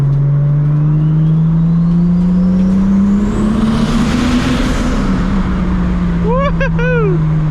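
A 750HP MKIV Supra accelerates hard with a loud rising engine drone that swells to a roar mid-way, then eases off under a brief whoop from a person inside.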